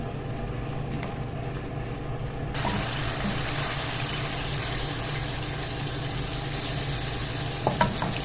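Ground spices and ground cumin being fried and stirred for dhaba-style fried daal mash, a loud continuous dense sizzle that jumps in intensity partway through, with a couple of faint utensil clicks near the end.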